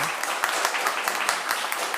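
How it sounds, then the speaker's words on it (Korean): A Korean church congregation at Sunday worship gives welcoming applause to a visiting retired pastor and his wife, a brief burst of many hands clapping with voices mixed in. "우리 환영의 박수로 환영하겠습니다."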